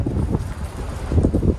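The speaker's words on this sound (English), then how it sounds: "Ooh, it's a little windy." Wind gusting outdoors around a converted bus, heavy low buffeting rumble across the microphone that swells and fades in uneven gusts, with no voices.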